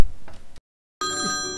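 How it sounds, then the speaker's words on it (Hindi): A telephone rings in a brief, bright burst that starts right after a moment of silence, following a short stretch of low room noise. "अब किसका फ़ोन है यार, अब किसका, शाहरुख खान का फ़ोन है क्या यार?"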